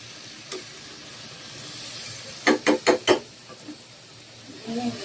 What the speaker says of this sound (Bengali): এখন এই যে মশলাটাকে ভালোভাবে কষিয়ে নিব ডিম বুনার জন্য